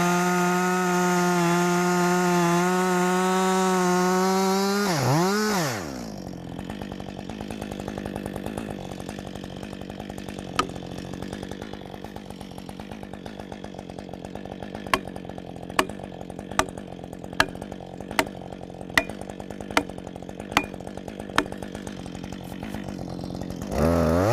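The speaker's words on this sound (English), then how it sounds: "Making this cut, I'm always looking at that kerf." A chainsaw revs high and steady for several seconds, then bogs down as the bar and chain bite into a log, grinding on in a lower, rougher tone with a series of sharp clicks and knocks before revving up again at the end.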